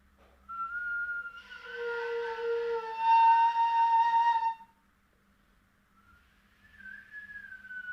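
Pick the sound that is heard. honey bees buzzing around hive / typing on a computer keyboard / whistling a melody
whistling a melody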